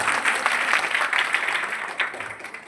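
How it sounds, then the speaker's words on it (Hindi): Applause for a girl's dance at a school Independence Day event: lively clapping from a crowd of children and adults, rippling and fairly loud, tapering off toward the end. "करिश्मा के लिए जोरदार तालियां आप लोग।"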